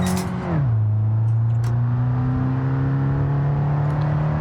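A car in BeamNG.drive, a racing-style driving game, revs hard and pulls away to chase top speed, its engine note dropping after a gear change and then holding a steady loud drone.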